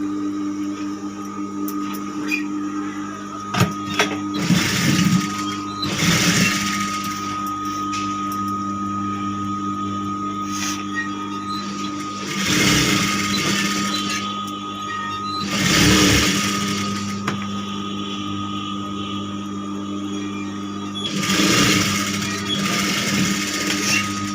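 A sewing machine stitching blouse sleeves for a princess cut blouse runs in several short whirring bursts, separated by a steady background hum.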